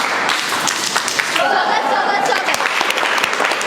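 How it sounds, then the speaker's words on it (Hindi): Schoolchildren at a government school in Bihar clapping together in welcome, a steady dense wash of applause from a group filling the whole stretch, with some voices mixed in. "स्वागत ताली के लिए पोजीशन स्टार्ट।"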